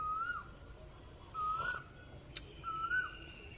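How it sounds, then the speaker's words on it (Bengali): A koel, a kind of cuckoo, calls outdoors in a lone, insistent voice: three clear rising whistled notes spaced about a second apart, moderately loud against quiet background with faint other birdsong. "কোকিল এক মনে ডেকেই যাচ্ছে একা একা।"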